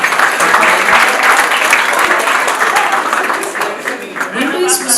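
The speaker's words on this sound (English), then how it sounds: "Please give a round of applause to the person sitting next to you" Audience at a CEO policy makers breakfast program clapping together, a loud, dense burst of applause that stays steady before tapering slightly, with voices mixed in underneath.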